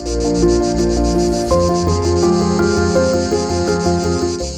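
Cicadas in Provence buzz in steady pulsing bursts behind a melodic instrumental tune that plays throughout.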